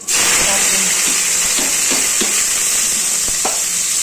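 Carrots, peas and capsicum sizzle steadily in hot oil for capsicum pea rice, with a loud, even frying hiss and a few soft clicks of stirring throughout.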